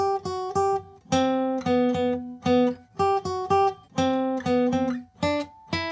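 A clean, harmonically rich guitar riff, the opening of a song, of repeated plucked notes with steady rhythm and brief gaps, played alone at moderate volume.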